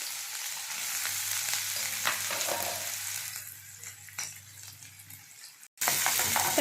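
Chopped onion frying in hot oil in a pan, a close, steady crackling sizzle that softens toward the end before a sudden brief cut and a louder burst of frying; no talk.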